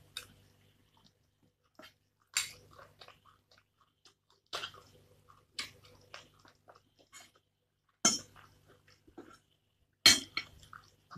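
Close, crisp bites and chewing on spicy Thai stir-fried basil chicken (pad krapow gai), crunchy mouthfuls repeating every couple of seconds with quieter chewing in between.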